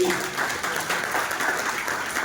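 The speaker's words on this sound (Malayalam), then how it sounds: "നല്ലൊരു കൈയടി കൊടുക്കുക" An audience claps for a couple, a continuous even wash of many hands applauding at moderate loudness from slightly farther back, with a faint voice underneath.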